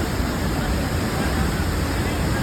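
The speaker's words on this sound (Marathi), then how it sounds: "वाहत्या पाण्याचा आवाज एक शांत वातावरण निर्माण करतो" Water pours steadily over Tegenungan waterfall in Bali, a constant, loud, full-bodied rush with no pauses or breaks.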